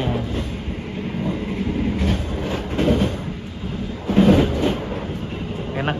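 Taksaka passenger train running on rails between Jogja and Jakarta, heard from on board as a steady rumble with rhythmic wheel clacks over the rail joints and brief louder bursts.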